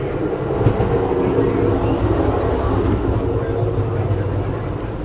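An Amtrak passenger train rolls along the rails in a steady, continuous low rumble with faint clatter, heard from inside the car at moderate loudness throughout.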